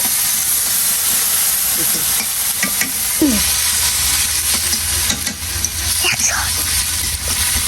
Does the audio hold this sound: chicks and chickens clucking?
no